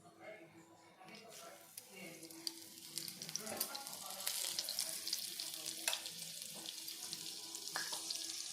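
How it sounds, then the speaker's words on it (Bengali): Leaf fritters (bora) dipped in batter and deep-frying in hot oil, a continuous crackling sizzle that swells over several seconds, with faint voices in the background. "দেখো বড়া আমার ভাজা হয়ে গেল"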